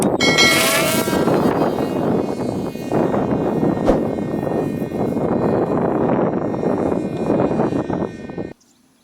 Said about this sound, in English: Aircraft took off and it's into the air